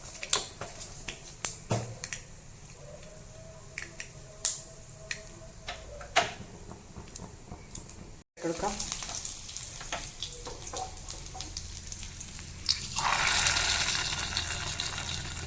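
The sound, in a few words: mustard seeds sputtering in hot coconut oil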